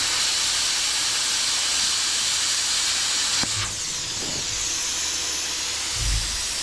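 A BestArc BTC5000DP Gen 10 plasma cutter cuts metal with a loud, continuous hissing roar of air and arc. The roar holds steady throughout, with a slight shift midway and a low thump near the end.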